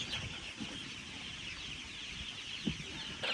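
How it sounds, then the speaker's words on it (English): Cornish cross chickens hatched in an incubator cluck softly and continuously close by, a faint, busy murmur of birds with a couple of louder peeps and no talking. "these are our Cornish cross that we hatched in the incubator in the house"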